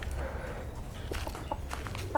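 A bantam chicken clucks a few short, irregular times close by, against a steady low background hum.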